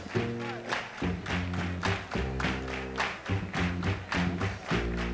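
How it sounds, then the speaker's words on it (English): An audience at a jazz concert claps in a steady rhythmic pattern, sharp regular claps over a deep bass line and keyboard, with a voice faintly in the mix. "This is called Soul Clap."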